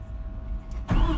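A Cat 938 wheel loader engine idles steadily at a low, even rumble, then swells noticeably louder near the end; no one speaks.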